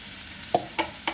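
Spices cooking with turmeric in a pan for a Bengali dish, heard as a soft steady sizzle with three short scraping stirs near the end, close and fairly quiet.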